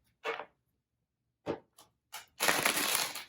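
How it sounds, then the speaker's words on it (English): Tarot cards shuffled by hand: a few short papery riffles and flicks, then a longer, louder burst of rapid card shuffling near the end, with no talking. "One more shuffle and we're going to jump into it."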